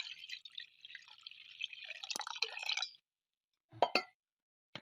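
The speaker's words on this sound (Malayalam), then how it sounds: "കുറച്ച് കുറച്ച് വെള്ളം ഒഴിക്കുന്നുണ്ടേ" Water is poured a little at a time into a simmering dried sardine curry with fenugreek and curry leaves, giving a hissing, bubbling splash for about three seconds, then a few separate drips and clinks.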